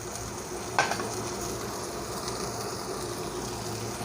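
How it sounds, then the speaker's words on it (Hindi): Chicken, peas, cumin and capsicum frying in a pan, a steady close sizzle with a brief stirring scrape near the start, no voices. "अब इन सब को हम फ्राई कर लेंगे।"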